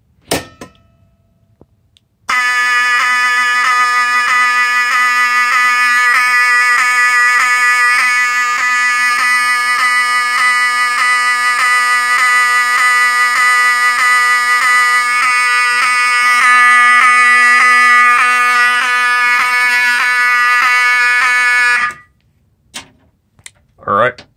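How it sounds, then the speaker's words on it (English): A loud fire alarm rings continuously for about twenty seconds during a fire alarm system test, a harsh ringing tone that stops abruptly. "let's go ahead and let's pull fire alarm"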